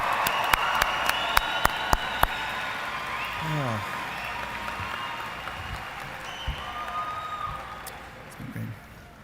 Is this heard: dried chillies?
no